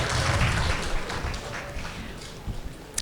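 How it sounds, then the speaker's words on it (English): Conference attendees at an iOS developer event applaud in a broad, fairly loud burst that thins and fades over a few seconds, leaving scattered claps and room rustle. "Give yourself a round of applause."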